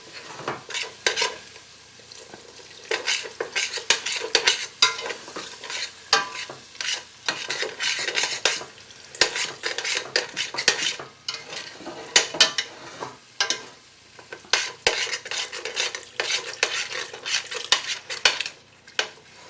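Potato and bacon soup stirred in a pot, a spoon scraping and clinking steadily against the metal with a light sizzle underneath, close and continuous with no talking.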